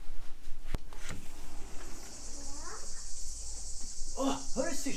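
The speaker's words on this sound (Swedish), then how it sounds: "Oh, hör du syrsorna?" Crickets chirp steadily at night in Greece, a constant high trill behind nearby voices, a sharp knock and other soft household sounds.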